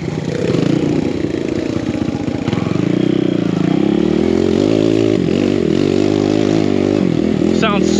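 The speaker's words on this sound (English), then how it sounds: "Bbr made a really good sounding pipe." A BBR-exhausted KLX170RF dirt bike engine revs and burbles steadily at close range, its pulsing exhaust note rising and falling over eight seconds, with a brief sharp clatter near the end.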